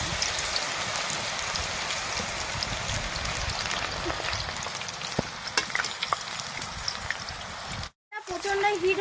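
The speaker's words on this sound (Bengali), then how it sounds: "তেল গরম হয়ে গেছে। এবারে এই কলাগুলো ছেড়ে দেব।" Raw green banana slices sizzle in very hot white oil in a wok for crisp chips, a dense, even crackling hiss that runs throughout, then breaks off briefly and resumes.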